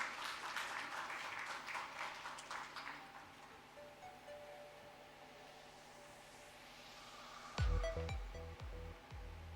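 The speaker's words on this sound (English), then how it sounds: "A round of applause, please, ladies and gentlemen." An audience at a dual doctorate conferring ceremony gives a round of applause, a dense steady clatter of many hands that fades away, followed by a few thumps near the microphone.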